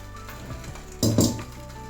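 Fish frying on a large flat griddle pan gives a steady low sizzle, with a sudden louder burst of crackling and a metal scrape near the middle before it settles back to a gentle hiss.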